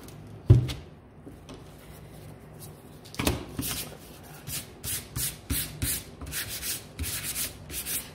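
Paintbrush loaded with leftover paint being rubbed off on a surface while making a Canada bunting flag, a dry scratchy brushing in short repeated strokes, close and fairly loud after a couple of early knocks.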